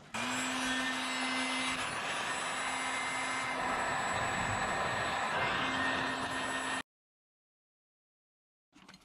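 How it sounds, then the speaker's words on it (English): A heat gun blows a steady, loud stream of hot air onto a solder joint during a front locker wiring repair, a continuous whooshing roar with a constant tone that cuts off abruptly, followed by silence. "Now the trick I've found is to use a heat gun."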